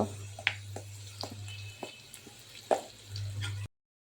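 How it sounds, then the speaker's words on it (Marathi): Crushed garlic, curry leaves and asafoetida hit hot oil in a pan, giving a steady sizzle with clicks and spatters and a low hum from the stove beneath. "तेल गरम झालं आहे आणि मी ही लसूण चेचून घेतली आहे जरा ती टाकते"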